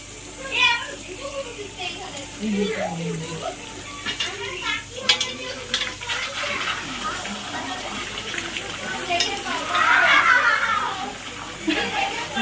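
A home birthday meal is cooked in a pan, with clattering pots, utensil scrapes and stirring amid splashing water, while several people talk throughout.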